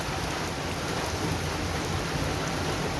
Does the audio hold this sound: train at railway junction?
no